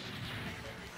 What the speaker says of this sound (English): You smashed open the gates.